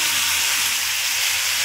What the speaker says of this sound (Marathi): त्याच्यावर आता वांगी टाकायची, वांग्यात मसाला भरला ती वांगी टाकायची.